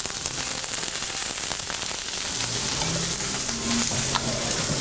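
Vegetables are stir fried in a pan, a loud dense hiss of frying running continuously with faint scraping movements mixed in throughout.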